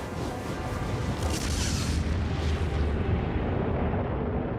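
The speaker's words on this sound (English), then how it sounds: "When two neutron stars collide, you get a tremendous explosion, which we call a gamma ray burst." A deep, rumbling explosion effect for a neutron star collision, a sustained roar that swells with a brief burst then slowly fades, with no voices.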